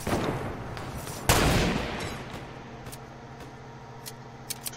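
A gunshot burst rings out from a video game, a loud sharp report with a trailing decay, followed by fainter scattered clicks and small pops.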